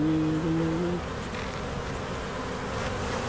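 Honeybees buzz around hive frames, a low, wavering drone that is loudest at the start and then settles into a softer, steady hum close by.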